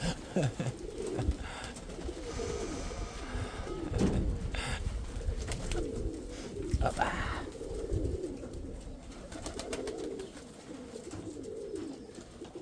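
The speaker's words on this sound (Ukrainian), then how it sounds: "Голубятка хороша." Pigeons coo repeatedly at a dovecote, soft throaty calls recurring close by amid rustling and shuffling, with people talking over them at times.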